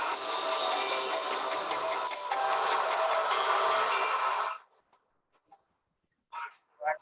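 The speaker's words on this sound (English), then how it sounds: "This is a large inkjet printer. So it just kind of runs back and forth, plays a little bit of ink each time." A large inkjet printer runs back and forth while laying down ink for a bus wrap, producing a steady loud mechanical hiss and whir for several seconds that cuts off abruptly, followed by near silence with a few brief faint clicks and bumps.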